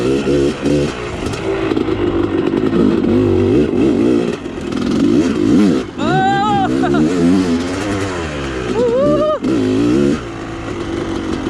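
A motorcycle engine runs and revs close by while riding in pouring rain, steady loud drone with rising rev sweeps around the middle and near the end, with broadband wash throughout.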